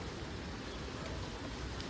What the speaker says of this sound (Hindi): हल्की हल्की बारिश सुबह से हो रही है।